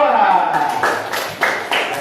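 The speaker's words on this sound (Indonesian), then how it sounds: "Sekali lagi beri tepuk tangan untuk kelompok 2." Classroom clapping for a student group at an elementary school, a short burst of scattered children's claps mixed with voices talking over it.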